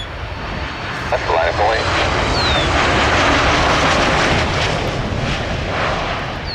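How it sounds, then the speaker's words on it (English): Boeing 737 jet roaring nearby at an airport, a loud continuous broadband engine rush that swells and holds, with radio air-traffic talk heard over it. "This should be the Aviate 737."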